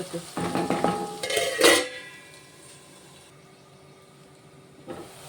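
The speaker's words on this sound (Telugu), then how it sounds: "ఆనియన్ ఫ్రై అవుతున్నాయండి" Onions frying with salt in a pan, stirred with a utensil that scrapes and clinks for a couple of seconds before the sizzle settles to a quiet hiss, close by with no voices.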